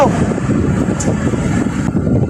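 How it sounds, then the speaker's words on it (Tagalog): Strong wind buffets the microphone with a loud, continuous low roar and gusty rumbling. "lakas nga ng hangin"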